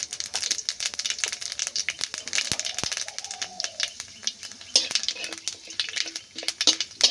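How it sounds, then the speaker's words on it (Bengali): Panch phoron spices with shredded bay leaf and dried chilli stirred in mustard oil in a kadai, giving scattered clinks and scraping taps of a spoon against metal, with faint crackling oil underneath; no one speaks. "মশলাটা একটু নেড়ে চেড়ে নেব।"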